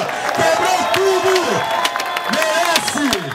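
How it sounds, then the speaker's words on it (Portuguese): A crowd cheers and claps in a steady wash of noise at a skateboarding contest final while a voice shouts loudly over it. "Saúde e palmas para o Alanzinho"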